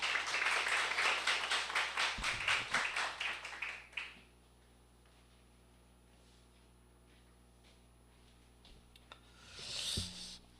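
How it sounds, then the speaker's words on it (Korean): Applause at a formal debate forum, a burst of clapping that fades out after a few seconds, followed by near silence and a short rustle near the end. "큰 박수로 모시겠습니다"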